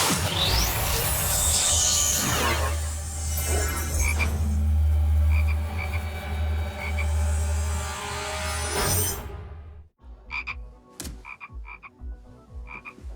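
Loud, close frog croaking, a deep rattling call that fills the first part, then stops, leaving sparse clicks and short chirps.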